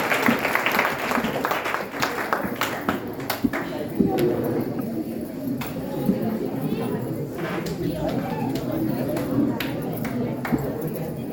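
A church congregation claps hands at a Hindi-language worship service, an uneven burst of claps that stays fairly close and thins out, with voices talking over and after it.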